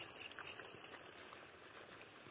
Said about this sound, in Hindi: ये यहाँ तेजी से जो है पानी गिर रहा है